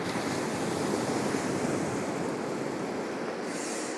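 Ocean surf rolls steadily onto Pantai Arang beach, a loud continuous wash of breaking waves mixed with wind buffeting the microphone, with no voices.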